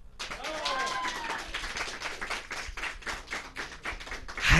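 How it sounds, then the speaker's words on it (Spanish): Guests in a studio audience receive applause: a short burst of scattered clapping under a speaking voice, fading to lighter taps before a louder flurry at the end. "A ver, invitados, un aplauso."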